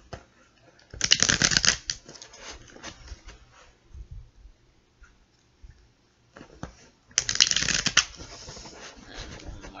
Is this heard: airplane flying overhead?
no